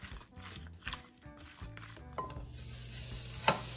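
Grated garlic sizzles softly in a pan on the stove, quiet and close, with scattered rustles and handling noises and a small sharp clink near the end.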